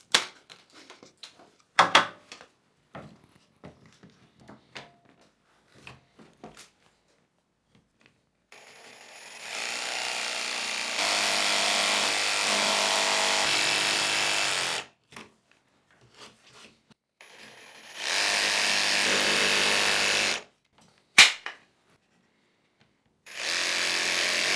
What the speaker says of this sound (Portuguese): faço um furo guia, perfuro metade da tábua, viro e perfuro o outro lado